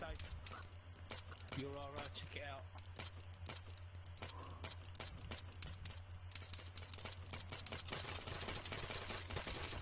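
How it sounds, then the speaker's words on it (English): Gunfire in Arma 3 aimed at a vehicle on a road, sharp shots cracking in quick runs over a steady low hum, with voices talking amid the shooting. "We're just shooting it up."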